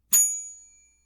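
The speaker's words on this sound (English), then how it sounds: "I will employ what I have called the inappropriate bell." A single bright bell ding rings out cleanly and decays over about a second, alone in silence, used as a comedy panel show's inappropriate bell.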